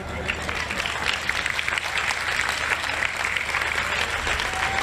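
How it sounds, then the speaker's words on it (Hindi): A crowd applauds at a spiritual discourse by Shri Devkinandan Thakur, steady loud clapping filling the whole stretch without a break, with a voice heard over it. "आप ताली बजाते हो,"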